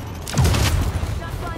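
A burst of gunfire in Tom Clancy's The Division on Xbox One: a loud, booming volley near the start that decays into a rumbling tail, with game voices around it.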